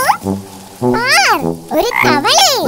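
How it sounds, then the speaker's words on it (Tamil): Cartoon frog croaking in a rainy-day kids' story, four loud, close, bouncy croaks with rising and falling pitch, each separated by a brief pause, heard alone without talk. "தவளை, இங்கே வா."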